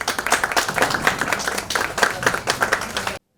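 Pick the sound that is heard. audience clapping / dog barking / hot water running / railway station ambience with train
audience clapping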